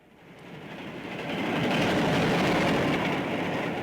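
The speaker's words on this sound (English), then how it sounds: "It's a train." A cartoon train rushes through a tunnel, its roaring rumble swelling from quiet to loud over a few seconds and then holding steady, with a broad rushing wash and rhythmic rail clatter, no voices.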